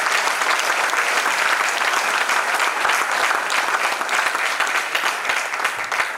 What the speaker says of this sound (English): join your hands to thank them by giving them a round of applause